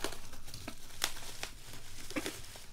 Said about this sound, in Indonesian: Untuk packaging dari si sellernya kita buka dulu guys.